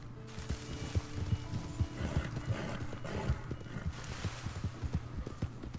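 Hooves clip-clop in a steady rhythm while a horse whinnies in the video game Red Dead Redemption 2, the footfalls close and distinct over a faint outdoor background.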